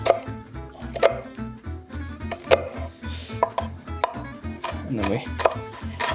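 A knife chops vegetables on a cutting board in a rapid run of sharp, close taps, with a low musical bed running underneath and no talking.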